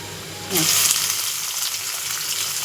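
Garlic sizzles and browns in hot oil in a pan, a sudden bright frying hiss bursting in and then holding steady and close.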